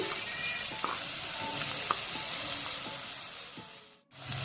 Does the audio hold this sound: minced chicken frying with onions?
yes